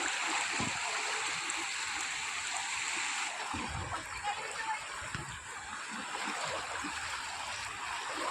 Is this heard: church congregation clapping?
no